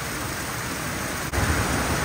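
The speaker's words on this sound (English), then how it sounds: "It's raining so heavy. There's so much water coming down." Heavy storm rain pours down while water flows over flooded ground in a sheet, a loud, dense, steady hiss with a brief dip midway.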